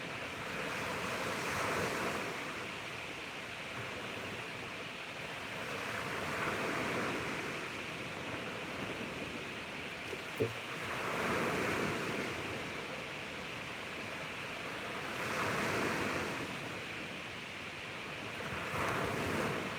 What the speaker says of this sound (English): The waves are so relaxing, and they're not baby waves today either